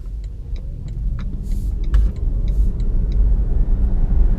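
BMW i3 Rex electric car on a town street, heard from inside as a steady low road rumble that grows a little louder while it speeds up, with faint ticking clicks scattered throughout.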